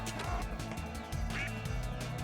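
A duck quacks repeatedly in the Wii game Robin Hood: The Return of Richard, with several close, nasal calls over game music and effects.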